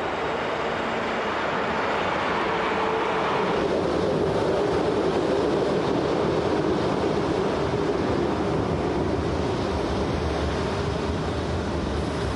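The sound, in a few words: BLS train climbing at Goppenstein station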